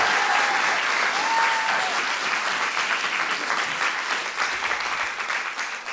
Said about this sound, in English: So please, one more round of applause for Heather Landy